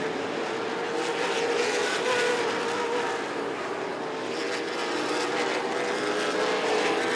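Big 8 late model race cars roaring around a short track during a 188-lap feature, a steady loud engine drone that swells and fades slightly as the pack passes, with no pauses.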